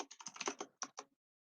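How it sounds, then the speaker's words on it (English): Quick bursts of keystrokes on a computer keyboard, a rapid cluster of close, crisp clicks followed by a short pause and two or three final taps before silence. "I'm typing now."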